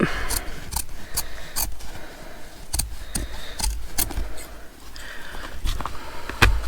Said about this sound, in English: We're going to remove all of that just with some scissors.